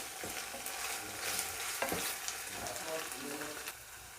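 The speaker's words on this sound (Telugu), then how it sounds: "ఈ అల్లం వెల్లుల్లి కొంచెం ఆయిల్లో మగ్గేలాగా కలుపుకుంటున్నాను" Ginger and garlic being stirred through hot oil in a pan while cooking a brinjal and chana dal curry, giving a steady close sizzle with scraping spoon strokes and no voices.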